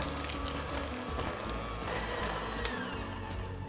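Electric mixer whirring continuously as hummingbird cake frosting is beaten with a few tablespoons of added heavy cream, a steady motor drone with rattling texture and a brief sharp click near the end.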